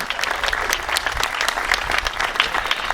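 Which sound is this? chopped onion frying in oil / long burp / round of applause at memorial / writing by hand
round of applause at memorial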